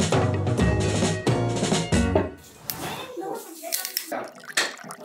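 Water is poured over food in a baking dish for an Easter feast spread, making a steady loud gushing splash that breaks into irregular splashes and drips, with voices nearby.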